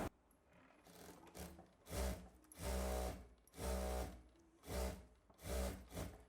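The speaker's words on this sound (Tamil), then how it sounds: "இப்போ எக்ஸ்ட்ரா தையல் வந்து நான் சைடில் போட்டு விடுறேன்" A sewing machine runs in bursts of stitching as an extra seam is added along the side of a frock at a tailoring class, with about six loud, steady whirring runs separated by short pauses.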